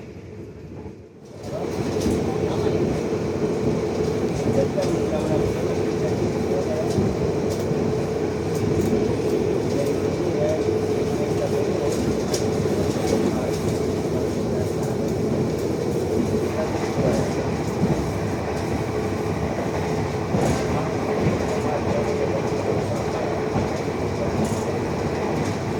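Indonesian passenger train running on rails between Jakarta and Cirebon, a constant loud interior rumble with rhythmic wheel clatter after a brief quiet start, and a muffled voice murmuring faintly underneath.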